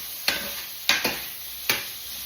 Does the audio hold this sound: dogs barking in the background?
no